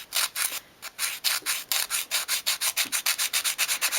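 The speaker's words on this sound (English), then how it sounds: "just going to use a nail file rather than sandpaper, just to sand these edges." A nail file sands the edges of a small 1/12th scale dolls' house sink unit part in steady, rapid back-and-forth strokes, a close, loud, even rasping rhythm with no talking.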